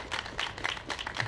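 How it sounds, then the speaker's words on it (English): Crowd applause at a rally for young people from Charlotte, steady overlapping clapping from a group, moderately loud and continuous through the short clip. "Give these young people from Charlotte a big round of applause"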